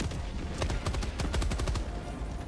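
Machine gun fire in the Helldivers 2 video game: a rapid, loud string of evenly spaced shots hammering through most of the clip, with a dense rumbling battle bed underneath.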